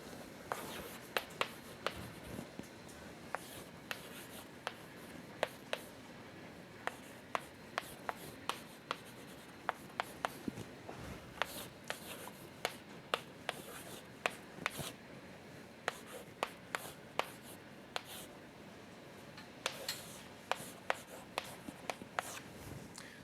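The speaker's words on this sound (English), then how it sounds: "So I'll write down the formula for the QLMs." Chalk or marker writing a formula on a board, heard as a long run of sharp, irregular taps and scratchy strokes at close range in a quiet room, with no talking.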